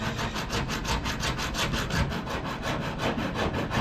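A small saw cuts through a turkey wing bone near the knuckle joint with quick, rhythmic back-and-forth rasping strokes, close and steady, with no talk.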